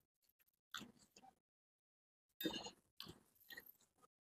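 Quiet, close chewing of an egg dish made with dried shrimp, garlic, salty and sweet soy sauce and scallions, with soft crunchy bites in two short bursts separated by a pause.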